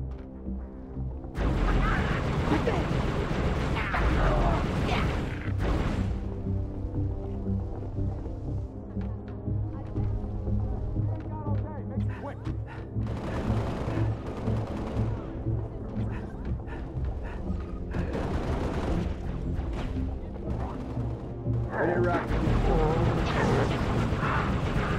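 Dense, loud gunfire and explosions fill a battle in the video game Halo: Reach, with near-continuous booms and bursts and voices calling out over the din.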